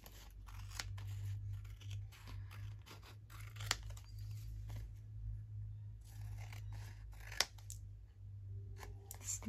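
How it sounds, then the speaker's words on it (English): Scissors snip the corners off a paper envelope in a quiet room, several sharp separate cuts and crisp paper crunches at irregular intervals, close and clear over a low steady hum. "Snip off the corners."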